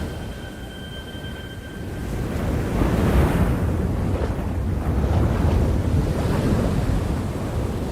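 Ocean surf on the Egyptian coast rolls in a continuous roar of breaking waves. Buffeting wind noise rides over it, and the wash swells louder partway through.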